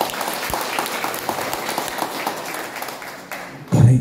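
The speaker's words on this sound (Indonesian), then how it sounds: "Tepuk tangan." Congregation applauding in a church, a broad steady patter of clapping that fades toward the end before a louder low thump.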